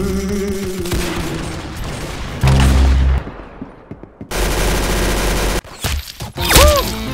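Gunfire in the Roblox game Arsenal, loud bursts of rapid shots and impacts in several separate chunks, close and punchy with no talk.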